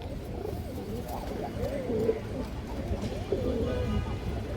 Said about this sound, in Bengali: পিওর বুট ঠোঁটের লাল মুসলদম নর কবুতর